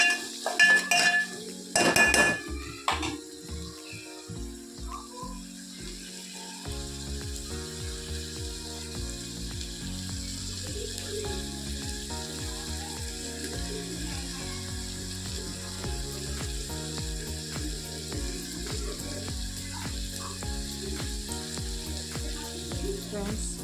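Tomato rasam cooks in a pan, first with a few sharp clinks of a utensil against the metal, then a steady, close sizzle with faint stirring and scraping underneath, and no talking.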